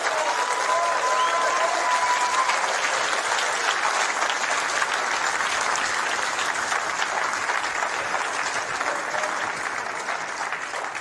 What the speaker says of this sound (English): Another round of applause for both players